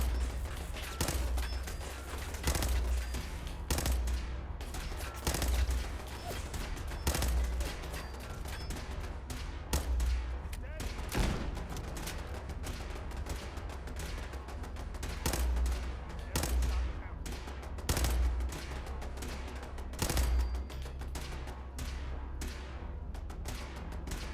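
Rapid bursts of laser turret fire in Fallout 4 repeat steadily throughout, loud and continuous with short volleys and brief gaps, over a low mechanical hum.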